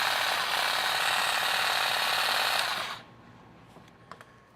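A SKIL 20V extending saw runs with a loud, steady broadband buzz with the trigger held for about three seconds, then cuts off abruptly, leaving a quiet tail with a couple of faint clicks.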